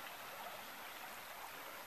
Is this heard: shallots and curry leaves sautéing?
no